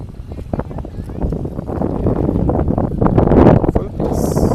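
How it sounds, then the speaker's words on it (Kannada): Cool wind blowing across a wide river beside a temple, heavy broadband rumble and buffeting on the microphone that builds and stays loud throughout, with a voice speaking over it. "ಆಹಾ, ಏನು ತಣ್ಣಗೆ ಬರ್ತಿದೆ ಗೈಸ್ ಗಾಳಿ."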